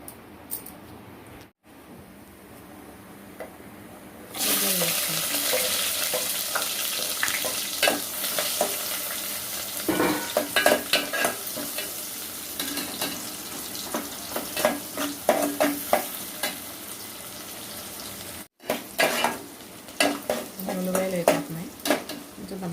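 Fenugreek seeds dropped into hot oil for an eggplant pulusu, quiet at first and then a sudden loud sizzle that crackles and pops steadily, with scraping stirs near the close. No one speaks.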